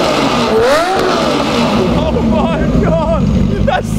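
Lamborghini Murcielago V12 engine revving after a rebuild, steady loud engine roar with rising and falling rev sweeps through the middle and end, with a voice speaking over it.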